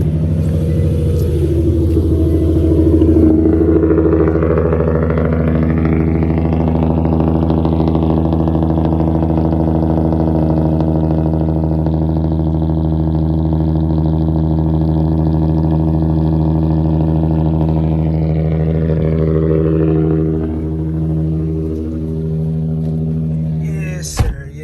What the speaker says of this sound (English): I know you guys are waiting for the cold start.